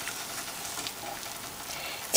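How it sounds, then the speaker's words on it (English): Wax beans boil in a pot on the stove, giving a steady soft bubbling hiss throughout with a small clink at the close. "As you see, the wax bean is boiling."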